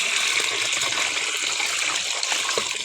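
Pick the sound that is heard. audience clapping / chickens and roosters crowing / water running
water running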